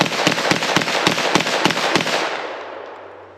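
A Beretta PMX-S pistol fires a rapid string of about ten sharp, evenly spaced shots from a 20-round magazine on a range, each crack decaying quickly before the clip fades out.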